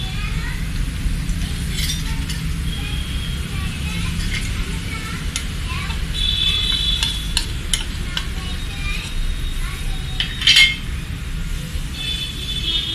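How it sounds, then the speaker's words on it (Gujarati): Whole cumin seeds sizzle softly in hot oil after mustard seeds have popped, with a steady low frying hiss and scattered metallic clinks of a spoon stirring the pan close by. "તો અડધી ચમચી આખું જીરું નાખી દેશું"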